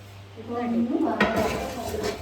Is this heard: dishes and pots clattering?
yes